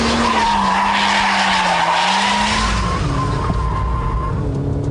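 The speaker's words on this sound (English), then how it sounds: "So to get it sideways without using the handbrake, you need to resort to the Scandinavian flick, followed by a bit of lift-off oversteer." Car drifting sideways using a Scandinavian flick and lift-off oversteer at about 65 to 70 mph, tires giving a loud, sustained squeal over a steady engine drone, heard up close with no voices.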